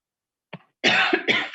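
A brief throat sound, then a harsh cough in two quick bursts, close and fairly loud.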